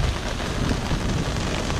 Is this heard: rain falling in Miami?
yes